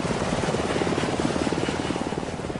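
Loud, continuous helicopter rotor thudding with a rapid, steady beat and engine whine, close by and unbroken.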